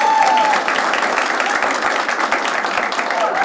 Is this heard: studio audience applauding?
yes